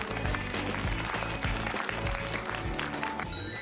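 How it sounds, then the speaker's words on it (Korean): Audience applause at a Korean film award ceremony for an audience-vote prize, clapping heard under a loud, rhythmic musical fanfare with a thumping beat that stays in front of the hands. "큰 박수 부탁드리겠습니다"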